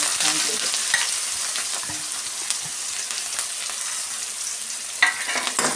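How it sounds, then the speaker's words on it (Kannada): Onions and mustard seeds fry in hot oil for a green banana stir-fry, giving a steady bright sizzle with a few soft scrapes of stirring. "ಸ್ವಲ್ಪ ಫ್ರೈ ಮಾಡ್ಕೊಳ್ಳೋಣ"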